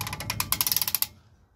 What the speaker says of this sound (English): So torque wrench to 60 foot-pounds.